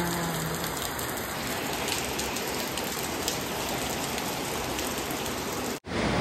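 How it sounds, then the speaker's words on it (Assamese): Heavy rain pours down in a dense, loud, steady roar that keeps going without a break until a sudden cut near the end. "এনেকুৱা বৰষুণ দিছে চাওক বহুত দিনৰ পাছত দিছে"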